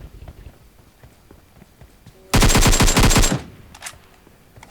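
A single loud burst of rapid automatic gunfire in a video game lasting about a second, standing out sharply against a quiet background.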